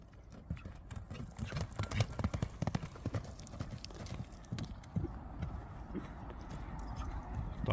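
A horse walks at a livestock sale, its hooves clip-clopping in a steady, fairly close rhythm over a busy background of murmuring voices and crowd noise.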